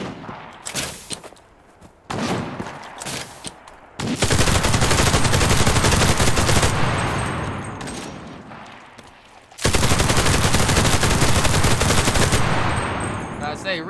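A gun fires in the shooter game CRSED: F.O.A.D., first as scattered short bursts, then as long sustained volleys of rapid shots. The fire breaks off briefly, then resumes loud and close.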